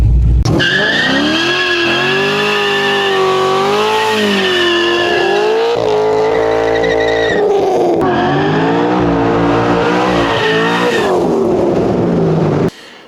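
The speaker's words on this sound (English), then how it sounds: "now we're just gonna do a simple little first gear burnout" A Corvette doing a first-gear burnout: loud, sustained engine revving with shifting pitch and screeching tire squeal for about twelve seconds, close and steady, then cutting off abruptly.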